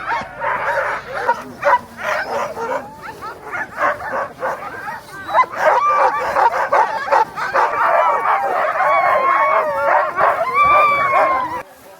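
A pack of excited sled huskies in Lapland barking, yipping and howling together in a loud, continuous chorus close by, with whimpers mixed in.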